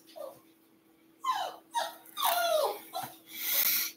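A pet dog whimpers and cries indoors in a series of short, high, wavering whines with brief pauses between them, fairly faint and close, with no talking.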